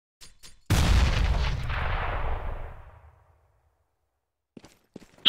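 A single loud grenade blast in Counter-Strike, from the DreamHack Open Cluj-Napoca 2015 match between reltuC and Natus Vincere, booms up close and rumbles out over about two seconds, framed by a few faint clicks and shots.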